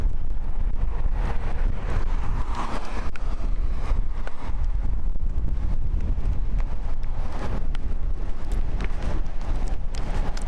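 Gusty wind buffets the microphone continuously on the Northern Ireland coast, a rough, loud rumble with no clear voices.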